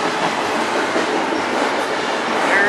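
A train rolls past on the railway track, a loud, close, continuous rumble of rail cars with steady wheel noise.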